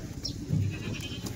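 A single Kathewadi goat lets out a brief, close bleat amid the low murmur of a busy goat sale.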